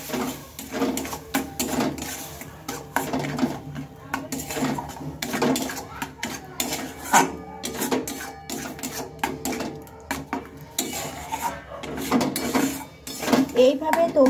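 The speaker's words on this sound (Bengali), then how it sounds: "এবার এটাকে কিছুক্ষণ ভালোভাবে নেড়ে চেড়ে নেব" Carrot paste is stirred in ghee in a pan, with repeated rhythmic scraping and clattering of a utensil against the metal, close and moderately loud, continuing for a while with some faint background noise.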